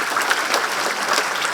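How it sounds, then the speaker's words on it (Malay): An audience at a graduate employability month launch ceremony claps steadily and densely throughout, a close, continuous burst of applause with no pauses. "Berikan tepukan kepada Puan Joanna"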